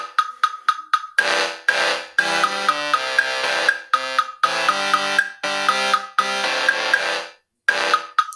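A synthesized music loop from Chrome Music Lab, with bright tonal notes and a steady pulsing beat repeating in a choppy rhythm, with one short break near the end and no voices.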